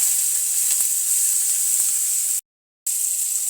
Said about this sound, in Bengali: দিয়ে দিলাম পেঁয়াজ কুচি